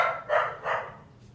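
A dog barks inside a house, three sharp barks in quick succession, close and fairly loud, with no speech over them.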